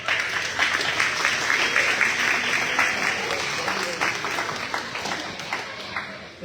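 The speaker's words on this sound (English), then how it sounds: "Give a round of applause." An audience at a town hall meeting in Alamance County bursts into loud, dense applause, many hands clapping steadily with a few cheers, holding strong before easing off slightly at the end.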